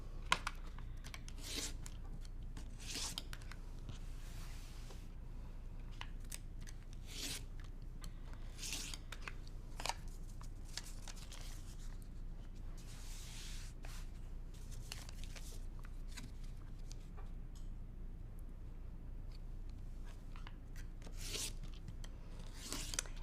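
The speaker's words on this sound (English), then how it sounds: "So I'm going to cut all 4 of these down and then I will remove the paper" Quiet tabletop work on quilt blocks: scissors snip and foundation paper is torn away in short, irregular bursts of rustling and crinkling. It sounds close but soft, with no voices.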